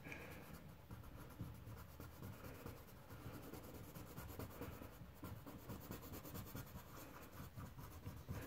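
Colored pencil lightly shading across paper in a steady, soft scratchy rub, continuous and fairly quiet with no talking.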